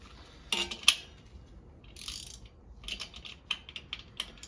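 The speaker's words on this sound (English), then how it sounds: "I love these ratcheting wrenches. They're so good." Ratcheting wrench tightening a bolt on a motorcycle wheel during tire work: a few quick bursts of clicking pawl sounds, close and moderately loud, separated by short pauses, with no talking.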